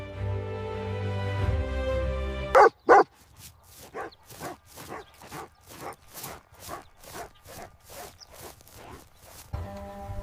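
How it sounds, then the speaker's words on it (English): A Komondor, the Hungarian dog with long white corded coat, barks repeatedly: two loud sharp barks followed by a long run of evenly spaced, softer barks, after a stretch of music at the start. "Here's a Commodore dog, with long white cords like a mop, from Hungary."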